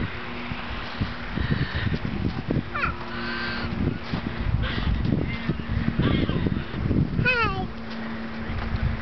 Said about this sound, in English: No, that's a goose. Leave that one alone.